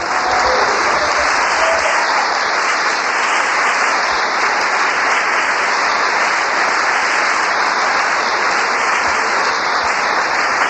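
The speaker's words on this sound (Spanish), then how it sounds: "Démosle un aplauso al Señor." A Spanish-speaking church congregation gives a sustained round of applause, dense and even clapping holding at a steady level for the whole stretch, with no voices standing out.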